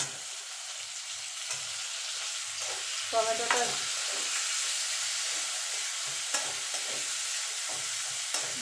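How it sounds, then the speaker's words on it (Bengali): Chopped tomato fries with ginger paste in a hot pan, a constant sizzle broken by a few scraping stirs of a spatula, close and fairly loud. "টমেটোটা গলা পর্যন্ত এটা নাড়াচাড়া করবো"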